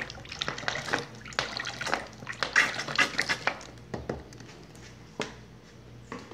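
A litre of salt water is poured into a homemade soap mixture of dissolved caustic soda, giving close splashing and gurgling in uneven bursts with occasional drips, no speech.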